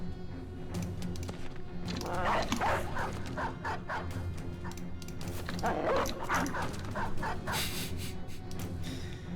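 Dogs bark and yip repeatedly in Peasant Militia, overlapping in busy bursts over continuous game music and battle noise.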